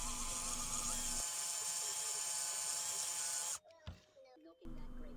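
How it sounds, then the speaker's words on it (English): A drill whirs steadily at high pitch, deburring hole edges with a larger bit, its tone shifting briefly partway through, then cuts off, followed by a few quiet clicks and a short restart. "we're going to take a bigger drill bit and knock the edges off"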